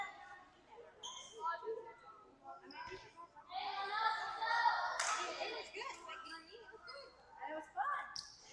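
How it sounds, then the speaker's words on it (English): The gallery at an indoor volleyball match between ACE 18 Black and the coaches claps and cheers in a short burst, with scattered voices and children talking before and after it. "Maybe a little more cheering from our gallery."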